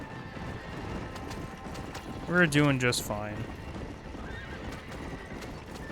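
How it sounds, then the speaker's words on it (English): Skeletal horses in Red Dead Redemption, one giving a loud, close neigh over steady clip-clopping hooves and a constant rumbling background, with someone talking briefly. "Oh, we have skeletal horses."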